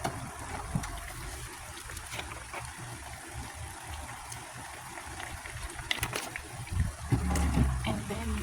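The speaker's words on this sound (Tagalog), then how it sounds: "lagyan natin siya ng suka guys" Vinegar pours into squid adobo cooking in a pan: a soft, uneven liquid bubbling and splashing that swells into a louder pour toward the end.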